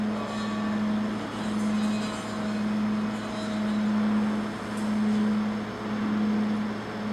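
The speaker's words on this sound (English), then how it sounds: "you will take this mallet and you will move it around the rim or the belly of the bowl." A mallet is rubbed around the rim of a Tibetan singing bowl, producing a steady, sustained ringing tone that swells and fades in slow regular pulses over a low background hum.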